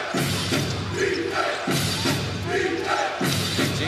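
A basketball arena crowd roars and cheers in rising surges during a professional league game between the New Taipei Kings and Hsinchu Toplus Lioneers, with a commentator talking over the noise.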